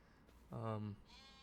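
A sheep bleats once in Farming Simulator 25, a single loud, wavering call lasting under half a second, standing out over quiet background.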